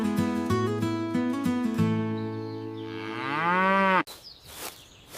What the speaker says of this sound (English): And on his farm he had a cow